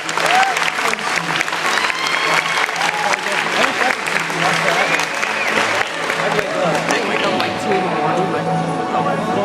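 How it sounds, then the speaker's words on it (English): A high school audience at a hypnosis show breaks into sustained, loud applause with dense clapping, while a voice talks over it. "would you give them a round of applause as we sleep?"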